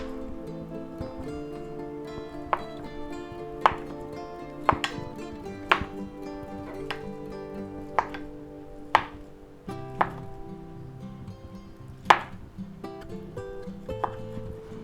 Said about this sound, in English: and we'll chop them up